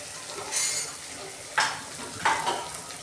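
Cumin, garlic, asafoetida and turmeric sizzling in hot oil for a dal tempering, with a steady fry hiss broken by a few sharp bursts as spices hit the pan and a spoon stirs.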